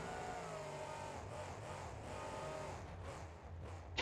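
Engine of a heavy Ford F250 pickup in the BeamNG.drive racing game, a continuous droning motor held at steady revs with slight shifts in pitch, loud and constant throughout with no voices.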